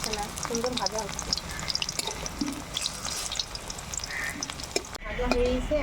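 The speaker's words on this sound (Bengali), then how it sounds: "এখন আমি এই কাঁকরোলগুলো এই ব্যাটারের মধ্যে লাগিয়ে তেলে ভেজে নেব" Batter-coated kakrol, spiny gourd, frying in hot oil with a steady, close crackling sizzle that runs throughout, broken by small stirring clicks and bubbling pops, with no talk over it.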